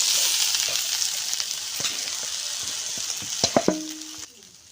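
Rice frying with onions and oil in a pan for biryani, a continuous close sizzle with light stirring scrapes, a few sharp clinks near the end before the hiss quiets.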